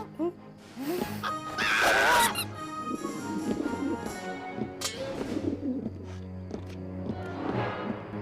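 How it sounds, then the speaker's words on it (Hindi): Birds call in a busy scene, with a pigeon cooing among other bird sounds and background voices. A brief loud burst of calls rises near the start. "ए कबूतर जल्दी आओ।"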